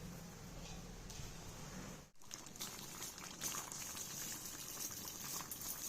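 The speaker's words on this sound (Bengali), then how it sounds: "এই যে চিকেন ফুটে গেছে একদম রেডি" Chicken boiling in a pot on the stove, a continuous bubbling and simmering hiss with a brief dip partway through, close and steady.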